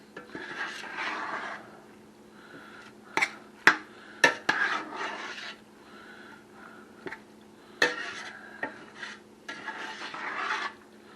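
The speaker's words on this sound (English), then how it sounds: "Stir all that up in there." A spoon stirs sausage and spinach casserole in a pot, producing repeated rasping scrapes against the bottom and sides, punctuated by several sharp clanks of metal; close and moderately quiet, with no speech.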